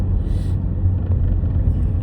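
Steady low road rumble of cars passing near a school bus stopped in traffic, a continuous drone with no voices.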